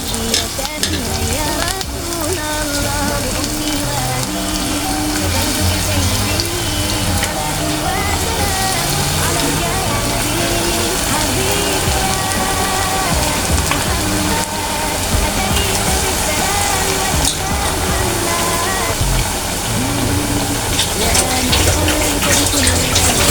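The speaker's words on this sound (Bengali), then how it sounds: "এইভাবে আমি উল্টা উল্টা ভেজে নিচ্ছি" Cauliflower pakoras fry in oil in a pan over low heat, giving a dense, continuous close-up sizzle that holds steady throughout.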